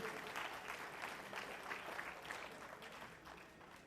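Steady applause from a crowd at an awards ceremony, many hands clapping densely and evenly, fading slightly toward the end.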